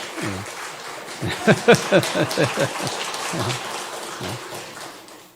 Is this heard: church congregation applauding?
yes